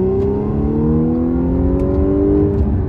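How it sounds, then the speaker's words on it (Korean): A 2016 Audi S4 3.0 TFSI quattro under hard acceleration on a road, its engine and exhaust droning loudly and rising steadily in pitch as it pulls toward 80 km/h. "급가속으로 엔진 사운드와 배기음을 한번 들려드리겠습니다."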